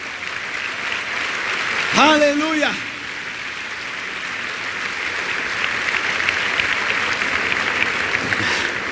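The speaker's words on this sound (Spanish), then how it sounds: "Dale un aplauso fuerte al Señor." Steady applause fills a church, continuous and moderately loud, with a voice briefly calling out near the start over the clapping.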